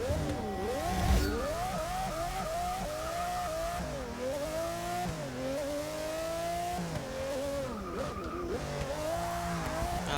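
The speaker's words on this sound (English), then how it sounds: "I'm going to take this rather interesting looking race car around the track" A Jaguar race car howls around the Hockenheimring in Forza Motorsport 6, its engine loud and close with rising revs, sharp downshifts and repeated climbs through the gears, alone without talk.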